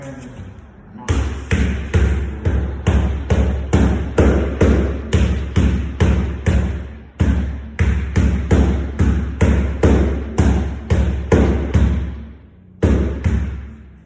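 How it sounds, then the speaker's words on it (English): Hammer knocking a door knob into a metal door, a fast steady run of hard thumping taps, close and loud, in two long bursts with brief pauses between them. "take my hammer, knock this."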